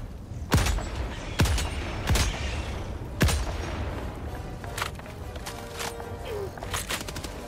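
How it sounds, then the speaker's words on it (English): Gunfire in Helldivers 2: several sharp, heavy shots ring out at irregular intervals over a rumbling battle din, followed by a quicker scattered burst of fainter reports, with a low voice briefly audible. "Oh, the other machine gun."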